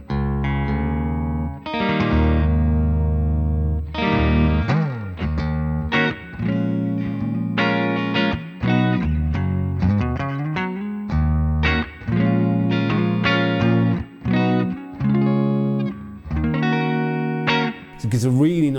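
Electric guitar played through a Blackstar ID:X 100 digital amp on a warm clean 6L6 power-tube setting, with ringing chords and single-note phrases that are clear and close, with short pauses between phrases.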